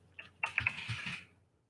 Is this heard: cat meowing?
no